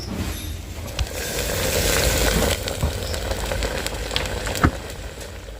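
A pot of khichuri, rice and lentils, simmers with a soft, steady bubbling hiss, broken by a few faint pops and clicks.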